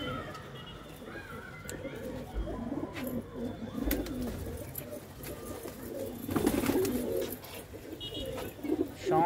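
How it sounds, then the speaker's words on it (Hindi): A golden pigeon coos in low, throaty repeated calls near a bird market in Ludhiana, mixed with rustling and scattered background voices and other birds. "ये देखो जी एक गोल्डन कबूतर"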